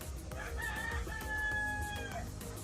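A straight-combed Sweater breed rooster crows loudly and close by in one drawn-out, wavering call, with faint clucking and farmyard noise around it.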